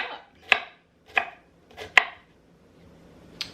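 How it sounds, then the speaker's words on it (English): Knife chopping through an onion on a cutting board, four sharp, well-spaced thuds with crisp crunch, close and clear with no talking, followed by a faint fifth tap. "continue to chop it up"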